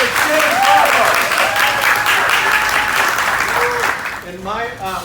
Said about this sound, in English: Everyone please give a big round of applause for our Assembly Member James Ramos.